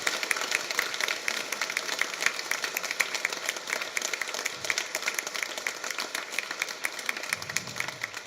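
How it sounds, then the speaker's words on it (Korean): A church congregation at Trinity Sunday Mass applauds in welcome, a sustained wash of many hands clapping that stays steady for over eight seconds and sounds spread across a large room. "환영의 박수 쳐주시기"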